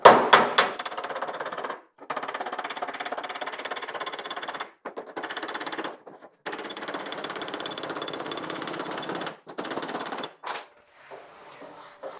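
Rapid bursts of hammering on a sheet metal outer skin corner backed by a dolly, loud and close, each run of fast metallic blows broken by short pauses.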